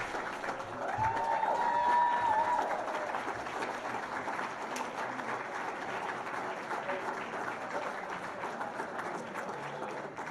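A hall of fame banquet audience in Elgin, Illinois applauds, a broad wash of many hands clapping that swells early then holds steady and fairly distant throughout.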